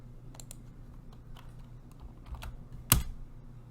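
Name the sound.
typing on a computer keyboard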